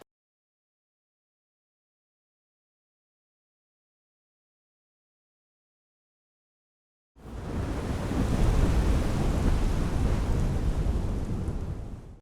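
A thunder sound effect accompanies lightning in a miniature rum commercial featuring a Kraken bottle and a pirate ship in fog. It starts abruptly after a long silence as a loud, sustained rolling rumble with a rain-like wash, and no talk.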